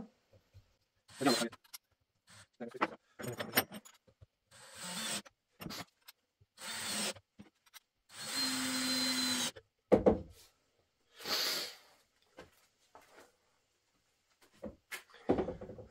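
Dewalt cordless drill or impact driver driving large screws into wood, heard in short stop-start whirring bursts of varied length, one sustained run in the middle, quiet and close, with someone speaking between the bursts.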